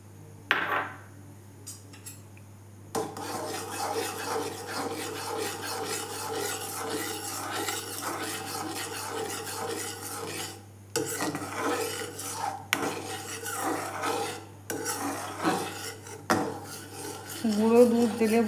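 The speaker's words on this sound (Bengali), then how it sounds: "এখানে আমি গুঁড়ো দুধ অল্প মিক্স করে দিচ্ছি।" A spoon stirs and scrapes steadily around a pot as powdered milk is mixed into thickened milk for bottle gourd kheer. The rasping is close and continuous, with short pauses, and no one talks.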